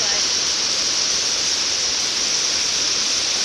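Water pours out at a mountain waterfall in Australia, giving a constant, close hiss of rushing flow that holds level for the whole few seconds.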